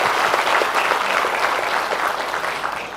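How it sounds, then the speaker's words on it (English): Applause from the audience at Persistent's 36th annual general meeting greets the management, a dense, steady patter of many hands clapping that fades slightly toward the close. "So please give a big round of applause for the management"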